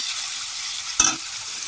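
Potatoes fry in a pan alongside winter vegetables, a steady bright sizzle throughout with a single short clatter of stirring near the middle.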